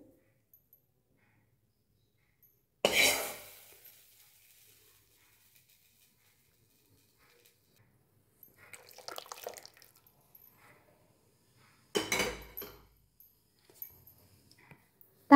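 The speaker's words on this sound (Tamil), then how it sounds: "தாளிச்ச கடுகு நம்ம இதில் ரசத்தில் சேர்த்துடலாம்." Hot tempered mustard seeds poured into boiled rasam, giving a short sharp sizzling splash, then a softer crackle and a second brief sizzle, with quiet stillness between.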